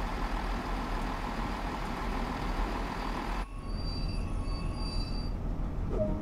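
Train brakes squeal on a Great Western Express HST in Train Sim World 2, a loud rumbling rolling noise that cuts abruptly to thin, high sustained squealing tones over a low drone.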